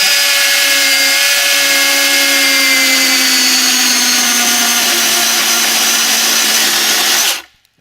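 Power tool making a plunge cut into a split rail, a loud, steady high whine with a slowly dropping tone held for several seconds before cutting off abruptly.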